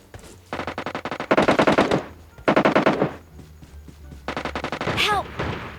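Bursts of rapid automatic gunfire in PUBG Mobile on the Livik map, several loud close volleys separated by short pauses, with a brief higher-pitched ricochet-like sound near the end.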